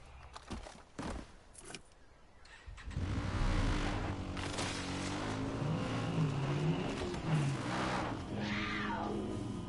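A truck engine in the video game Far Cry 5 starts after a few sharp knocks, then holds a steady close-up drone with rising and falling revs, over game effects and no talking.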